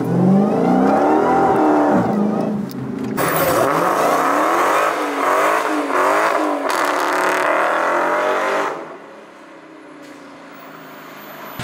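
High-performance car running in 500 horsepower mode with the black key, its engine revving hard through rising and falling sweeps, loud and close, before dropping to a quieter idle near the end.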